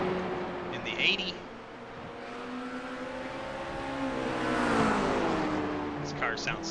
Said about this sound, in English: This car sounds so good on the track.